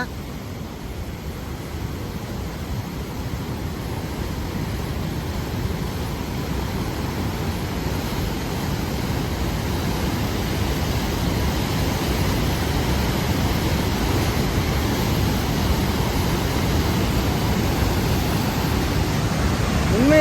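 Surplus water released from the Mettur dam roars in a steady, loud, broadband rush that swells slightly over about twenty seconds, continuous and unbroken.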